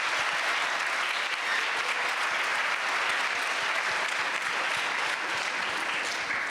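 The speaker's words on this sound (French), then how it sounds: "Je vous demande d'applaudir très fort Abou" A large audience applauds loudly and steadily at a UNESCO campus event on water, with dense continuous clapping and no voices standing out.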